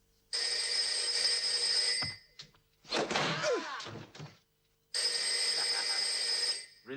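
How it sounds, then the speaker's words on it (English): A telephone rings in a Pink Panther film scene: two long, loud, shrilling rings separated by a gap holding a thud and a brief clatter, with the second ring starting abruptly after a short silence. "The phone is ringing."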